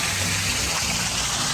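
Waterfall at Disney's Typhoon Lagoon water park, a steady broadband rush of falling water, loud and close, with no talk.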